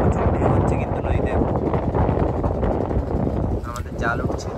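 Strong wind buffets the microphone on a river during net fishing, giving a loud continuous rumbling roar with choppy splashing underneath and no clear pauses.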